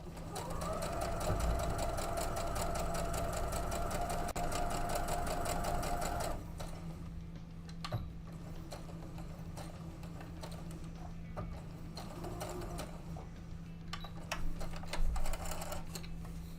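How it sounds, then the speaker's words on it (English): Sewing machine stitching a quilt block, a fast steady mechanical whir with a rapid needle rattle that runs loud and close, then stops and gives way to quieter clicks, handling noises and faint background sounds. "so I went ahead and sewed that up again"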